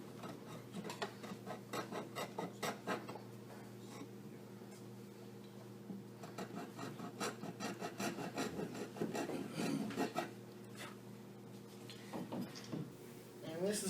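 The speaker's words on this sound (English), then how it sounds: "And this is just basically a cheap little small hacksaw." A cheap little hacksaw cuts with steady back-and-forth rasping strokes, close and fairly quiet, over a low background hum.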